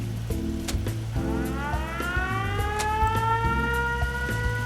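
In a Fallout 4 settlement, an alarm siren wails in rising and falling sweeps that build and continue steadily, fairly loud, over a busy game background with rain-like hiss and low pulsing tones.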